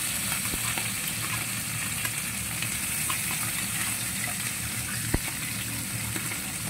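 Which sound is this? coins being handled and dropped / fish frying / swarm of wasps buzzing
fish frying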